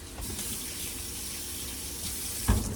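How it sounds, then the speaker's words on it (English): Hands are washed under a running kitchen tap, giving a steady, even rush of water throughout. A brief thump sounds near the end. "Wash my hands."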